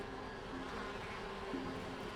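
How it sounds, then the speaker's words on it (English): Bees buzzing around a monolith in the video game Elroy and the Aliens, a faint, steady insect drone with a thin whine over low background hum. "I should try placing the bowl at a safe distance to lure the bees off the monolith"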